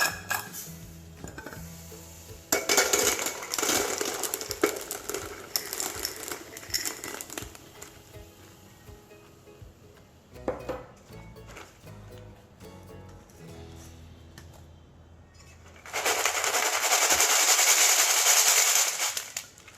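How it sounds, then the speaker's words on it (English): Marbles and salt poured through a sieve into an empty bowl: bursts of rattling, clinking glass marbles against the mesh and bowl, first a long stretch, then a short one, and a final loud shaking rush of granular salt. "So I will need an empty bowl and a sieve to separate the salt and the marbles."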